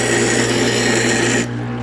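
Power grinder working an air plant holder, a loud steady close whine with constant abrasive rasp that cuts off abruptly near the end, leaving quieter background.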